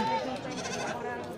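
Goats bleating at a busy goat market, several calls rising over a constant crowd murmur with people talking nearby.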